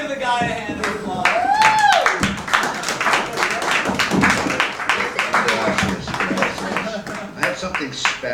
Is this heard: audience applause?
yes